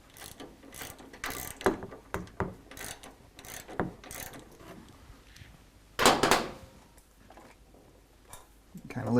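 A ratchet loosens the front fuel tank bolts on a motorcycle in a workshop, giving short bursts of clicking and metallic mechanism noise with pauses between them and a louder burst near the end.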